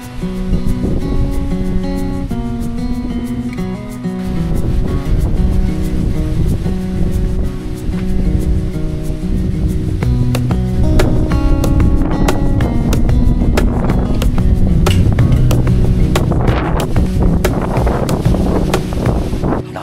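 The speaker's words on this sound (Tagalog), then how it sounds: "Hindi naman siya umuulan pero ang lakas ng hangin." Strong wind on a mountain campsite roars and buffets the microphone in a steady, loud rush for the whole stretch, with tonal layers running underneath.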